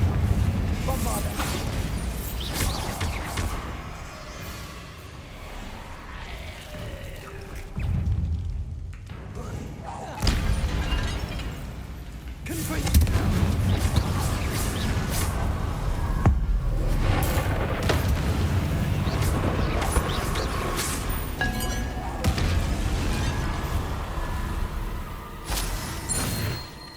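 Bombarda blasting spells in Hogwarts Legacy, heard as repeated heavy thumps and booms in a dense, continuous game mix with a short quieter lull midway.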